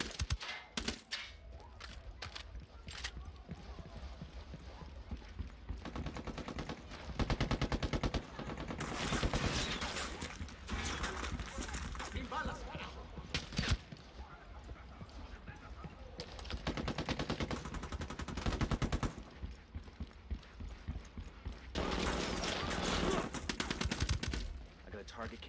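Submachine guns fire in Tom Clancy's Ghost Recon Wildlands in repeated rapid bursts and rattling volleys over about twenty-five seconds, with game voices talking in between.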